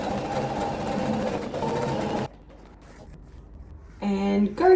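A sewing machine stitching organza fabric hums steadily for about two seconds, stops, and is followed by quieter handling sounds and then a voice.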